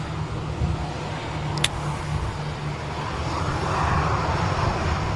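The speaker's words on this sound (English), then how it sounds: "Dreamliner now ready to commence its takeoff roll of 23 right on its flight over to the United States of America" Boeing Dreamliner at Manchester Airport beginning its takeoff roll on runway 23 right, a steady distant jet engine roar building gradually under faint outdoor background noise.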